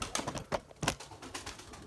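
Pigeons coo in a loft in several soft, irregular bursts, with faint rustling between calls.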